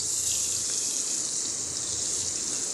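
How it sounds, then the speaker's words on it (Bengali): Pieces of fish coated in salt and turmeric sizzle in hot oil. The frying gives a dense, steady hiss that stays loud and unbroken throughout. "তো নুন হলুদ মাখানো মাছটা এখন তেলের মধ্যে ছেড়ে দিচ্ছি।"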